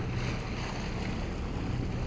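Boat engine at wide open throttle without getting on plane, running with a fault that makes it rattle harshly; a dense, continuous low roar mixed with wind and water rush, close and steady, with no talking.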